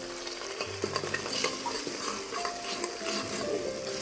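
Spiced masala of coconut, onion, garlic and ginger frying in oil for kanduri mutton, a steady close sizzle with constant spoon stirring and occasional clinks against the pan, no talking.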